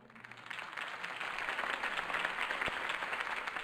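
Steady applause from an audience, a dense patter of many hands clapping that holds at an even level throughout.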